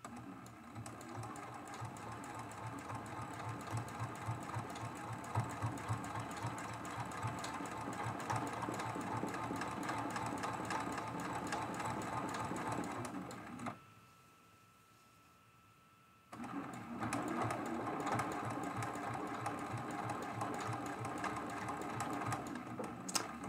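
A sewing machine hums in a continuous, rapid stitching run during free-motion quilting of a mug rug, stops for a few seconds of near silence in the middle, then resumes at the same steady pace, close and even.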